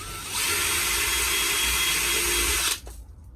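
Power drill fitted with a polishing attachment buffs the plastic of a T25 (T3) Vanagon van, giving a steady, loud, close whir for about two and a half seconds before it cuts off and spins down.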